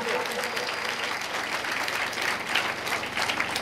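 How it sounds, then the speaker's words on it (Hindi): School audience at a Seratul Nabi program in Piplan, Mianwali, applauding to welcome guests, a steady, sustained roar of many hands clapping with faint crowd murmur underneath. "तालियों के गूंज में तमाम साहिबान का इस्तकबाल कीजिए भरपूर तालियों में"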